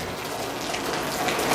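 Heavy pouring rain on wet streets, heard as a dense, steady wash of hiss and splashing that builds slightly louder toward the end, with no voices.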